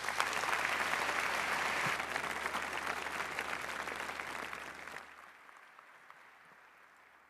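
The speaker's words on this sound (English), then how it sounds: "So please give them a warm round of applause." Audience applause at a talk on financial surveillance, a dense, loud round of clapping that holds steady for about five seconds, then fades quickly to quiet room tone.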